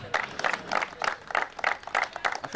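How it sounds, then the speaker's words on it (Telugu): Cricket players at a T20 tournament award ceremony clap together to welcome a guest onto the stage, a quiet, fairly distant run of rhythmic group claps in even pulses. "మీరందరూ క్లాప్స్ కొట్టాలి ప్లేయర్స్."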